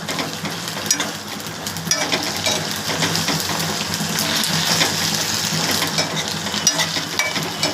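Coriander leaves frying in a pan for chutney, a continuous bubbling sizzle with scattered crackles and stirring scrapes, fairly loud and close, with no talking.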